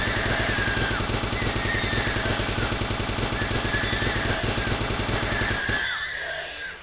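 Rapid automatic gunfire in the Starbound video game rattles loud and continuous for about six seconds, with faint tonal game effects layered over it before the shooting cuts off into a brief quieter tail.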